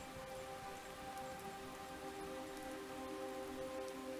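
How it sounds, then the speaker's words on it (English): Steady rain in the visual novel Distant Leaps to Circinus, a continuous soft patter of droplets on surfaces with a faint tonal hum underneath, even and unbroken throughout. "Droplets of rain slowly pelted on his face and body."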